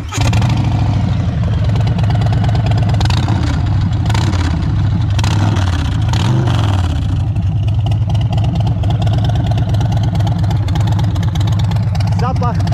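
A Harley-Davidson with a 107 engine and Kobra exhaust, a Road Glide Limited or Street Bob, idles with a deep, loud, lumpy rumble and revs a few times before settling into a steady throb. A voice talks over it.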